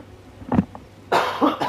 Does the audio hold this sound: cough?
yes